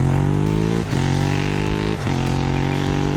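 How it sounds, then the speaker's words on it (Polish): A motorcycle fitted with an aftermarket exhaust roars as its engine revs, a loud harmonic drone that climbs in pitch, dips briefly twice as gears change, then climbs again. "Ryk akcesoryjnego wydechu, kiedy silnik jest wkręcany na obroty, to chyba najbardziej rozpoznawalny sygnał"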